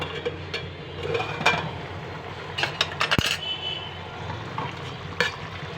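Broad bean and tomato curry cooks in a pan with a low, steady simmering sizzle, broken by scattered metallic clinks and scrapes from a spoon against the pan, one sharp clatter near the middle, with no voices.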